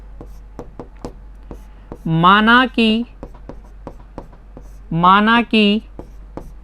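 A pen scratches out a maths solution in quick, close, rhythmic taps and strokes, with a voice talking over it in two short spans.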